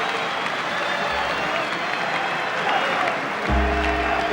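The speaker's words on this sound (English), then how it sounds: "The applause richly merited." Football crowd applauding a trophy presentation at Valley Parade, Bradford, a steady broad wash of clapping across the whole stretch, swelling slightly near the end.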